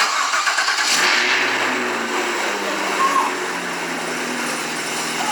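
Jeep engine cranking and catching, then settling into a steady loud idle with a slight rev, close by, and a voice faintly underneath.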